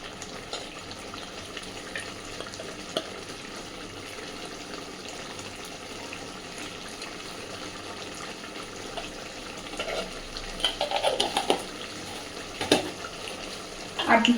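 Chicken kosha, a spiced chicken curry with the meat cooked down nearly dry and garam masala powder added, sizzles and bubbles steadily in a pan, with louder stirring scrapes and clatter near the end.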